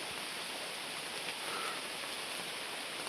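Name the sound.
rain falling in forest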